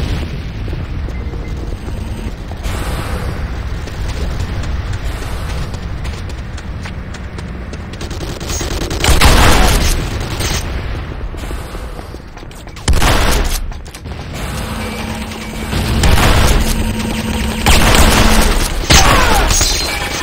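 Gunfire and explosions batter a Nod base in the Renegade Command & Conquer video game, with loud repeated booms, bursts of rapid shots and clattering impacts in separate waves.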